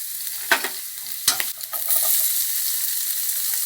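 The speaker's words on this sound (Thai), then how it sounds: "เนยละลายแล้วก็ใส่อันนี้ลงไปเลยกระเทียม กระเทียมโขกหยาบ" Coarsely pounded garlic sizzles in melted butter in a pan, opening with a couple of scraping stirs before settling into a steady, close frying hiss.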